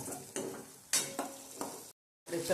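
Tomatoes cooking in a pan for Gujarati sev tameta shaak, stirred with a spoon: a soft sizzle broken by several scraping strokes, then a brief silence before the stirring and sizzle resume.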